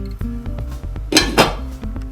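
A cooking pot being set down, ready for boiling mango pieces with half a tumbler of water; a couple of close, bright metallic clanks sound over a steady low background hum in a kitchen.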